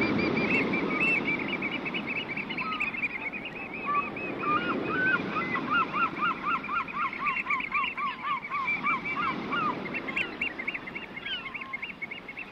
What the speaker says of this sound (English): A flock of seagulls perches on the great glass lantern at the top, and they fly off, wheeling around it as you approach.